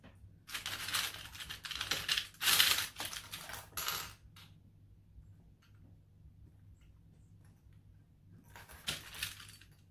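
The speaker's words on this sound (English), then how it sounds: "Then we're just going to clip the rest of the bag." Plastic sewing clips snap onto the layers of a fabric clutch bag in a quick cluster of small, close clicks and rattles, then a quiet pause before another brief burst of clicking near the end.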